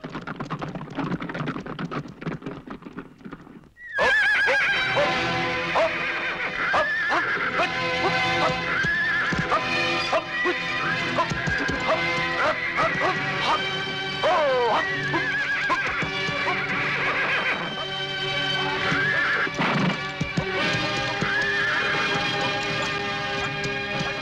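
A horse whinnies repeatedly while its hooves clip-clop steadily and close by, set against dense background music, with no talking.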